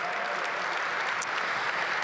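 An audience at the unveiling of the new Capital One Arena applauds, a dense, steady wash of clapping from many hands throughout, loud and continuous with no talk over it.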